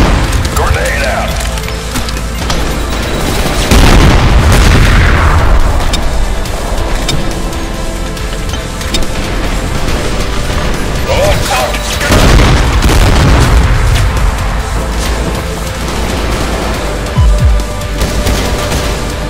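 Grenade blasts in the first-person shooter Trepang2 land amid gunfire, several loud booming explosions with splintering debris, while a voice shouts over the combat.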